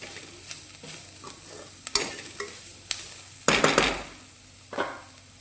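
Spice masala with degi mirch being stirred and roasted in a pan for a bitter gourd curry: a soft steady sizzle broken by intermittent spatula scrapes, with a louder cluster of strokes midway.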